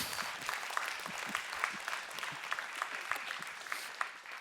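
Moderately loud audience clapping during a church workshop, a steady patter with some individual sharp claps standing out, no talk over it.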